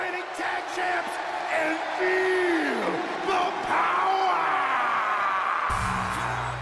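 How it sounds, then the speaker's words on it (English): A virtual arena crowd in the WWE 2K20 wrestling game cheers and yells as a wrestler awaits his opponent, a sustained roar with whoops, then entrance music kicks in near the end. "And now Rusev awaits one Kofi Kingston as the crowd is on their feet"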